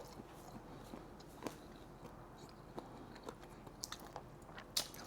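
Shrimp bitten and chewed close up, with soft, irregular crunching and wet mouth sounds fading in and out over several seconds and no talk.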